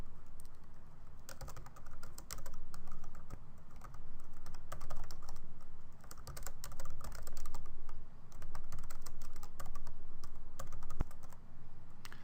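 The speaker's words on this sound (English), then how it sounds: "Instead, type your heading first," Fast, close typing on a computer keyboard, with rapid bursts of clicking keystrokes separated by brief pauses, heard alone with no talking.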